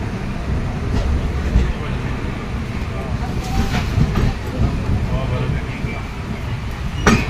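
The Okha Ernakulam Express rolls along the rails on a journey from Thivim toward Vasai Road, with loud continuous rumble and rhythmic clickety-clack heard from inside the train, plus steady hiss and occasional clanks.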